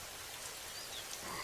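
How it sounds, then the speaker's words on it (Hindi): Heavy rain pours steadily in a Hindi cartoon, a dense even hiss of falling water, faint and unbroken, with no voices. "बारिशें काफी ज्यादा तेज हो रही थी"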